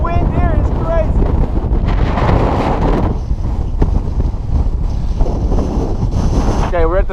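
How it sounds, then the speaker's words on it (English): Strong gusting wind buffets the microphone on a mountain top in Lanzarote, a loud continuous roar with a person talking over it. "and the wind here is crazy."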